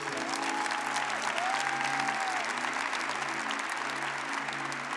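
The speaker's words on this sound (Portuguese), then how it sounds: "Se você crê nisso, aplauda o Senhor com força" A church congregation applauds loudly and steadily, a continuous wash of clapping from a crowd while faint voices or gliding tones drift underneath.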